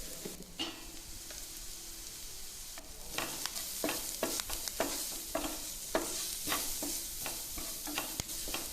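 Chilli and pepper powders are stirred in a pan over a soft sizzle, with repeated scraping strokes of a spoon in an irregular rhythm throughout.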